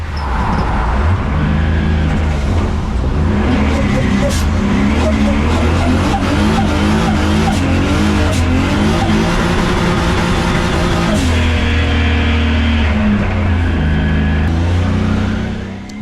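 Drift race car at a Viking Cup qualifying session, engine roaring on and off the throttle as the tires squeal and skid, loud and continuous throughout.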